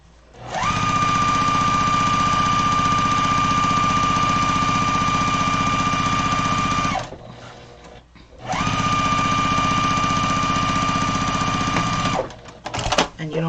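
Sewing machine stitching pillow fabric, two long loud runs of steady rapid whirring separated by a brief pause, ending with a short burst.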